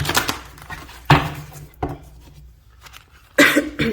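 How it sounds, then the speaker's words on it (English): Tarot cards shuffled by hand in several separate bursts of riffling and slapping, close and fairly loud, with quiet gaps between them. "I'm just going to shuffle."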